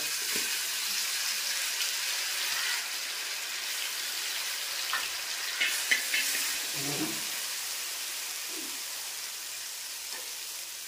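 Ginger garlic paste and curry leaves frying in hot oil in a pan, a soft steady sizzle with occasional stirring scrapes and small pops, fairly quiet and without talk.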